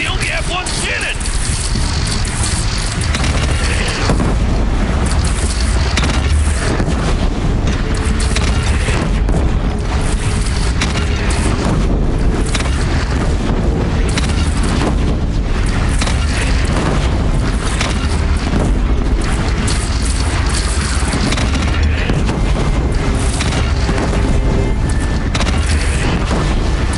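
Cannon fire and heavy explosions from a battle against a bandit clan in the Horizon Zero Dawn video game, loud booming bursts throughout under continuous rumbling noise, with voices shouting over the fighting.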